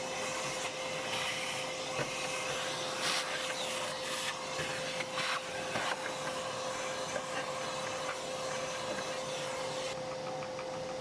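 A vacuum cleaner runs steadily with a constant whine and hiss while cleaning inside a Bambu Lab H2D 3D printer, its nozzle occasionally knocking and scraping against surfaces.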